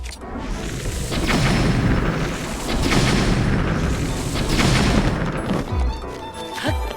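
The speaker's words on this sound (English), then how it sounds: "A couple of explosions" Deep booming blasts in The Legend of Zelda: Breath of the Wild play loud and rumbling, a few heavy explosions that roll across several seconds before fading out.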